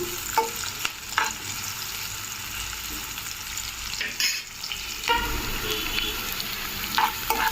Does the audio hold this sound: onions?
yes